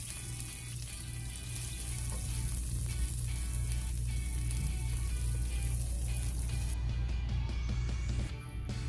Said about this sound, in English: In a large skillet, heat oil over medium-high heat. Add the onions. Saute until tender and translucent.